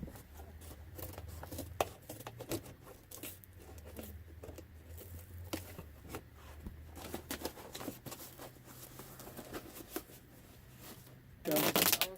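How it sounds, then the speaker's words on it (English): Cardboard is folded into a shipping box in an RV, producing scattered crinkles, taps and scraping rustles throughout, ending with a louder tearing crunch, with faint talk underneath. "I hate making my own boxes, but sometimes it must be done. I'm going to just fold that."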